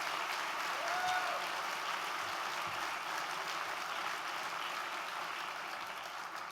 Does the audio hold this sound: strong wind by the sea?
no